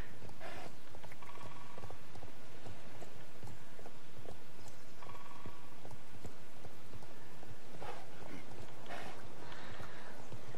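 Hooves of a horse trotting in the Star Stable online game beat out a steady, rhythmic clip-clop, close and continuous over a soft background.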